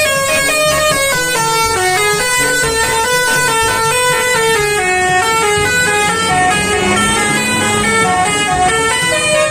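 Colourful telolet bus horns play a bright, multi-tone melodic tune, loud and sustained with stepping pitches over engine rumble, no talk.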